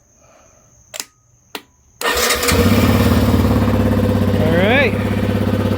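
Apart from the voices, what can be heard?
car engine cranking and starting with Lokithor J400 jump starter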